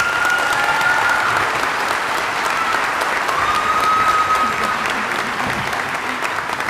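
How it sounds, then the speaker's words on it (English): Loud, full applause from a big commencement crowd, a dense continuous wash of clapping hands that holds strong for several seconds, with faint voices mixed in. "Give her another round of applause."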